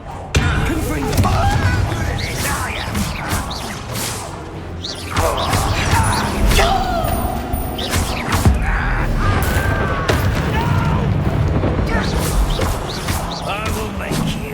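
Confringo blasting spells explode in the Hogwarts Legacy video game, a series of sharp, loud bursts and crashes hitting in quick succession over rumbling game sound and combat noise.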